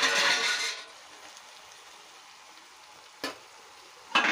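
Capsicum and tomato curry sizzles in a pan while the tomato is pressed and mashed with a spoon, a loud frying hiss at first that fades, then two short sharp scrapes.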